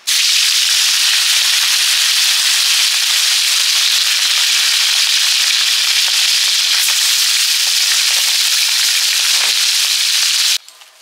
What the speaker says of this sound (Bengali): এদিকে কয়েকটা মাছ ভেজে নিই